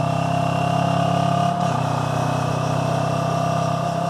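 A motorcycle engine hums steadily and close while riding, with a brief dip in pitch as the rider slows with engine braking.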